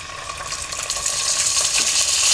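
Onion paste drops into hot oil already fried with bay leaf, nigella seeds and cardamom for a thin koi fish curry, setting off a loud, steady, hissing sizzle that crackles close by, with no talking.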